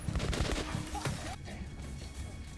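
Gunfire in Metro Last Light, a loud clattering burst of shots and crashing impacts up close that fades into a lower rumble after about a second.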